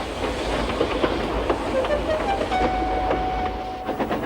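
A steam engine train setting off, a steady rolling rumble with soft rhythmic chuffs and a faint whistle-like tone rising through, heard at moderate distance under constant background noise.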